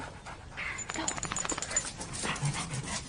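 A dog whimpers and pants in short, soft bursts close by, heard under a tense spoken exchange in an indoor period drama scene.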